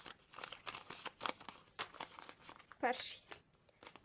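Small plastic packets crinkle and rustle as they are picked through, with soft crackling bursts under a quiet spoken voice.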